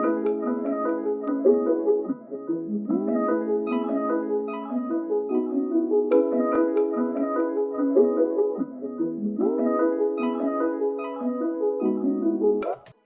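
A hip-hop sample loop with added ear candy and one-shot filler sounds from a new kit, playing as a sustained, dense melodic bed with sliding, bending tones that repeat in cycles of about three seconds.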